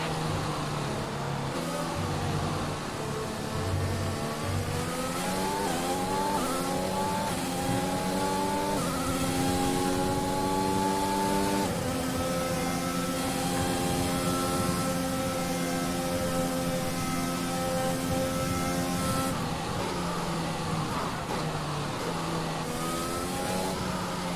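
Simulated Formula 1 race car engine from the F1 2021 video game, revving and shifting through gears in rising and falling sweeps on track, steady and loud throughout with no talk.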